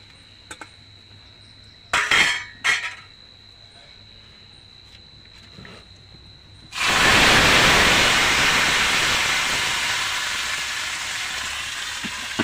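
Hot panch phoron tempering is poured into a pot of thin vegetable khichuri and erupts into a sudden loud sizzle that slowly fades, after a few soft clinks and clatters.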